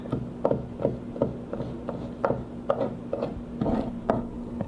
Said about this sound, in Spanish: Vamos a picarlo que quede más finito para que no esté picando tanto.